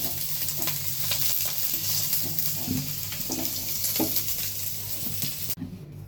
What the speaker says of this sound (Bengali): এখন ভালোভাবে ভেজে নিব এগুলো তো আলুগুলো ভাজা হয়ে গেছে